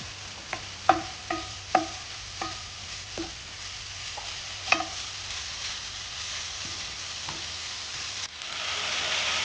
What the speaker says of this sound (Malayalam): അതുപോലെ തന്നെ മഞ്ഞൾപ്പൊടിയും ചേർത്ത് നന്നായിട്ടൊന്ന് വരട്ടിയെടുക്കുക.